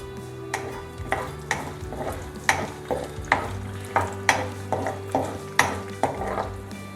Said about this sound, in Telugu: శనగపప్పు, మినపప్పు, ఆవాలు, జీలకర్ర వేసి కొంచెంసేపు